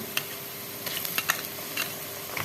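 Ginger garlic paste sizzling in a hot pan, with a few scrapes and taps as it is stirred, close and fairly quiet.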